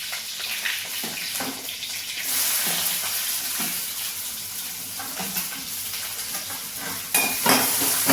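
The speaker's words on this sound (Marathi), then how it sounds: "कांदा परतवण्यासाठी ठेवला आहे." Onion sautés in a pan with a continuous hissing sizzle and occasional stirring clinks, at a moderate, steady level that grows a little louder near the end; no one speaks.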